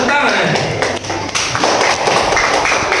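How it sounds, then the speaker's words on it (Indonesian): Classmates clap for a student group in a school lesson, a dense, close patter of hand claps with some thumps, continuing steadily under voices in the room. "tepuk tangan kawan untuk kelompok 3"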